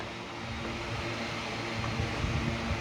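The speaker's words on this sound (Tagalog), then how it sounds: "Pinatay mo na yung electric fan namin maingay" A noisy household electric fan running, giving a steady broadband whirring hiss with a faint low hum that stays even and close for the whole stretch.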